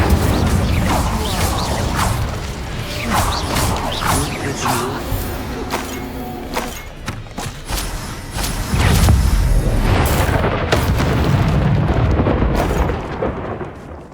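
Spell-casting effects from the video game Hogwarts Legacy, with a busy stream of whooshes, crackling bursts and explosive impacts over a low rumbling bed, loud and continuous throughout.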